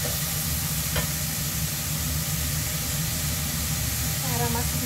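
Ingredients browning in a pan for a pasta pesto salad, a low steady sizzle under a strong background hum, with a single faint clink partway through.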